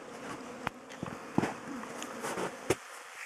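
Honeybees buzz around the hives of an apiary on their first winter cleansing flight, a faint steady hum broken by brief louder passes of single bees flying close by.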